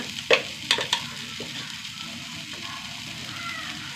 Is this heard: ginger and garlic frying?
yes